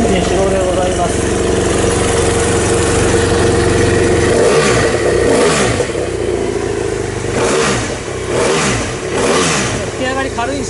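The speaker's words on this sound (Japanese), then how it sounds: "F800R エンジン始動でございます。" A loud BMW F800R motorcycle engine idles, then revs repeatedly in short bursts, the pitch rising and falling several times close by.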